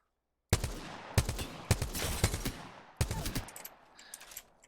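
Sharp, loud rifle cracks in rapid double-tap pairs from the G7 Scout in Apex Legends, about six shots in under four seconds, each with a short ringing tail, no talk.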